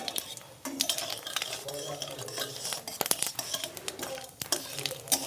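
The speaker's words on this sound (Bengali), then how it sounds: "এবার আলুটাকে একটু ভেজে নেব।" Potatoes frying in a pan with a light five-spice tempering, with frequent clinks and scrapes of a spatula against the pan over a soft sizzle, the stirring uneven and close.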